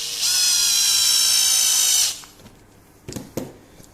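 A power drill whirs loudly for about two seconds, driving a small screw into an old wooden mirror frame, then stops and is followed by a few faint clicks and taps.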